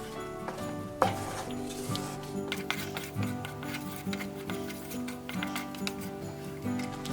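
Paneer cubes gently stirred into butter masala gravy in a pan, with soft scraping and thick sloshing strokes repeating steadily at close range, plus a sharper utensil knock near the start and faint clinks.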